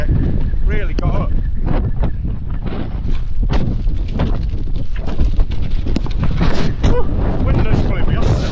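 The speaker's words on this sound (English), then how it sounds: "The wind is just really got up." Strong outdoor wind buffets a microphone near a deep culvert hole, making loud, rumbling gusts that go on without pause. Someone talks over the roar in short, excited bursts.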